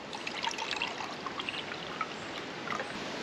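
Clean Welsh tap water poured into a cup to make a combat ration drink, a soft continuous trickle and splash with a steady flow throughout.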